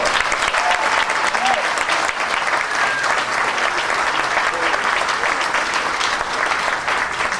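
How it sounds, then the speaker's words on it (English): A large crowd applauds steadily, a dense, even wash of clapping that holds for several seconds without letting up. "please give all three of our dignitaries a wonderful round of applause"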